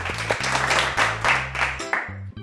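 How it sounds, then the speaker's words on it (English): Applause at a school's end-of-year music assembly, a steady wash of clapping running throughout alongside sustained low tones. "So a big round of applause for you."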